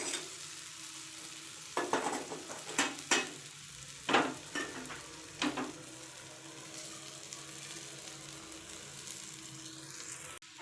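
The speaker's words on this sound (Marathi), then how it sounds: "जेवढं तेलात छान फ्राय करू ना तेवढ्या छान कुरकुरीत लागतात आळूवडी" Alu vadi, taro leaf rolls, fry in shallow oil with a steady low sizzle, and a cluster of sharp scraping and clattering touches as pieces are handled in the pan.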